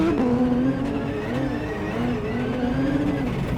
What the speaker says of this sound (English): is the coolest car I've driven all year